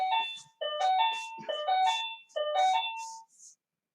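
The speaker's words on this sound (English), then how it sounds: "The doorbell was ringing." A doorbell chimes a melodic tone pattern in three repeated bursts, clear and close, with a brief pause between phrases and no talking.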